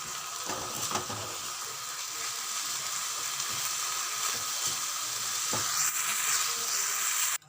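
Bean filling with chili powder being stir-fried in a pan for stuffed flat beans, a continuous soft sizzle with occasional scrape and stir knocks, close and fairly quiet, no talking.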